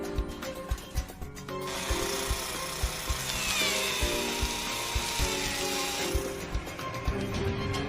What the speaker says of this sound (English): A diamond-tipped drill on a robotic arm does the delving.